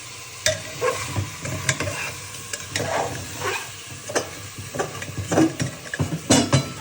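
Chicken frying in a pan on a home stove, stirred with a utensil that scrapes and clinks against the metal in irregular strokes over a steady sizzle, close and fairly loud with no talk.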